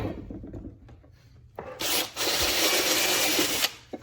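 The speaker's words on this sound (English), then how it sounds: "Pre-drill 1 inch." A power drill bores a pilot hole into wood decking, about an inch deep and three-quarters of an inch from the board's edge: a steady, close, grinding whir lasting around two seconds, with quiet handling sounds before it.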